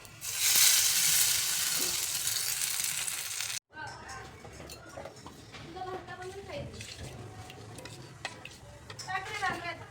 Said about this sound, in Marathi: चटणीला तडका देऊन घ्यायचा आहे तेल घालायचं आहे आणि मोहरी घालायची